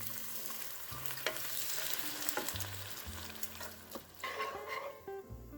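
Collard greens cook in a pan with garlic, bacon and bone broth, a steady crackling sizzle with occasional stirring and clinks, close and continuous with no talk.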